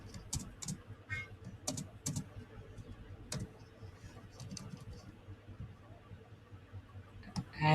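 Rapid clicking keystrokes on a computer keyboard, typed in uneven bursts at close range against a quiet room background, with a louder clack right at the end.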